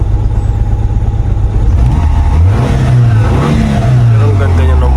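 A misfiring Mitsubishi Galant GTi with its check engine light flashing is revved in rising and falling swells over a rough, loud idle close by, with people talking over it.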